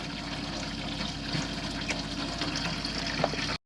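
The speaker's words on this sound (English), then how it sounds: "this is just to show that your tap is working, your water pump's working" Steady running water from a tap inside a 2009 Auto Trail Apache 634U motorhome, with the onboard water pump working, a continuous close hiss and splash with faint clicks and no talking.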